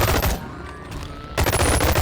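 Two bursts of rapid video game gunfire from a two-handed ranged weapon, loud and close, split by a short quieter gap.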